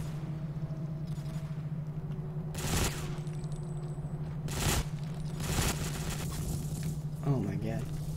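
Short bursts of gunfire in the Ghost Recon Phantoms shooter crack out at irregular intervals over a steady hum, four or so sharp volleys, with a brief vocal sound near the end.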